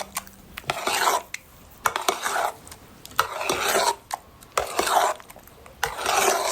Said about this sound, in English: So I'm just trying to mix that all in really well so there's no dry powdery bits